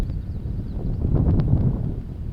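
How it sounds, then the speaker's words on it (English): Low, rumbling wind buffets the microphone steadily, with faint rustling and a few light ticks on top. "Wind's just constantly blowing."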